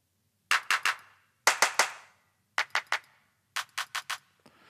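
Clap samples are auditioned one after another from a drum rack: crisp, dry hand-clap hits in quick groups of three or four, each group separated by short silences, close and clear with no other sound.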